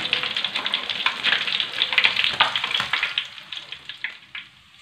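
Pomfret fish frying in oil, with a bright, crackling sizzle that is fairly loud at first and then thins out and fades toward the end.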